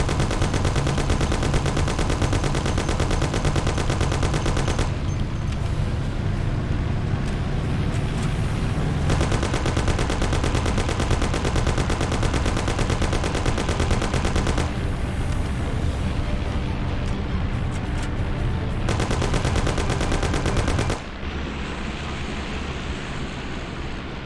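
Heavy, continuous automatic gunfire from the video game Mafia (2002), dense rattling volleys that stay loud throughout and ease slightly near the end.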